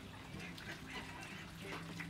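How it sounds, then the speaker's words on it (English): Ducks, chickens and guinea fowl call together in a farmyard near a log yard, a steady distant chorus of quacks and squawks under faint water-like background noise. "them ducks and chickens and guineas, but they're out there having an unbelievable powwow"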